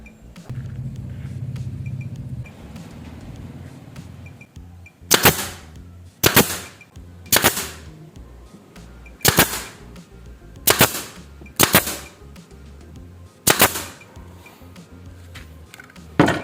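A pneumatic nail gun fires into wood while a homemade wood-carving jig is being assembled: seven sharp, loud bangs spaced about a second apart follow a quieter stretch of handling noise, with no talk.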